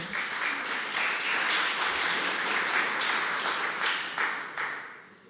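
A conference audience applauding continuously, dense clapping that holds steady and then tapers off toward the end.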